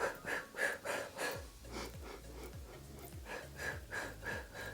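Rhythmic exercise breathing during a Pilates workout, with steady paced inhales and exhales repeating about every half second under faint background music, close and soft.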